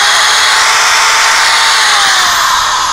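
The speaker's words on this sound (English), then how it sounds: "sometimes the drill will work" A power drill runs off a 1200-watt power inverter, its motor whining loud and steady without pause, close up, with no talk over it.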